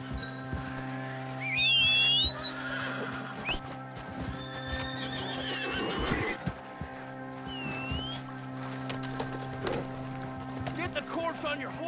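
In Red Dead Redemption 2, a horse clip-clops along at a steady gait and gives a loud whinny, with bird calls and game ambience around it.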